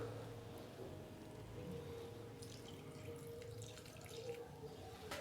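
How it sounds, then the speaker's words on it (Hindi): A cup of water pours steadily into wheat-flour garlic paratha batter in a bowl, a continuous soft splashing stream heard alone at low volume. "और अभी मैं इसके अंदर डालूंगा 1 कप भर के पानी।"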